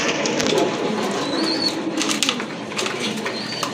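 A pair of fancy grizzle-coloured pigeons of the Beauty Homer type coo softly and steadily, with faint wing rustles and background hubbub around the birds.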